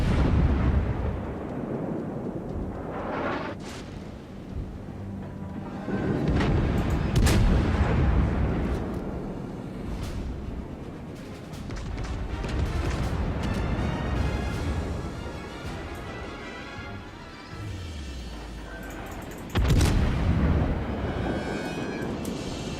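Heavy naval gunfire from warships in World of Warships, with deep booming salvos and explosions rolling continuously and loudly, overlapping one another with sharp blasts standing out.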